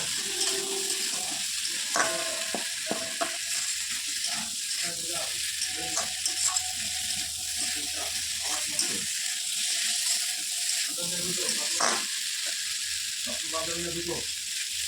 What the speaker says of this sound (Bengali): এর মধ্যে এখন আমি দিয়ে দেবো টমেটো কুচি টমেটো কুচি দিয়ে ভালোভাবে নেড়ে নেড়ে নেব